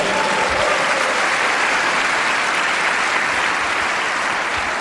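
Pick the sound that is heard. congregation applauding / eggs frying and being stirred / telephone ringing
congregation applauding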